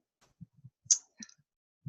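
A computer mouse clicks a few times in quick succession, soft and close, with faint low taps in between and no talking.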